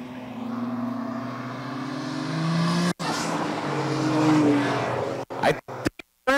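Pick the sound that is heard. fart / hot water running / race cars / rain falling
race cars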